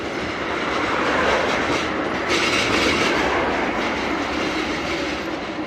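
A tram passes on a Bucharest city street with a loud, continuous rumble and a metallic wheel clatter that stays close and steady throughout.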